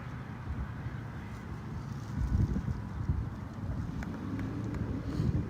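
Wind buffeting an outdoor microphone, a steady low rumble with gusts that swell louder around the middle and again near the end, with no speech.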